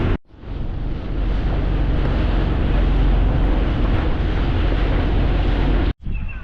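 Strong, steady wind on an island in Coron, Philippines roars across the microphone, buffeting it continuously with a low rumble, briefly dropping out near the end.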